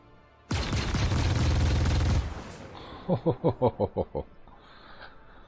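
Spaceship guns on a Buccaneer in Star Citizen open fire: a long, loud continuous blast of weapon fire, then a rhythmic series of about seven sharp bursts, each cut off cleanly.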